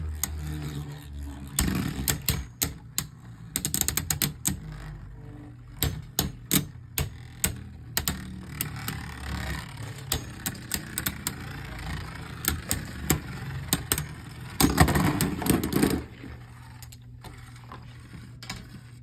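Hasbro Beyblade Burst tops, including Blast Jinnius, clatter and scrape against each other in a plastic stadium, a busy rattling, clicking battle lasting over fifteen seconds before quieting.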